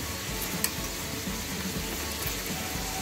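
Chicken sizzles in a hot pan for homemade tandoori chicken, a steady close crackle and hiss with small pops, running continuously and alone without any talk.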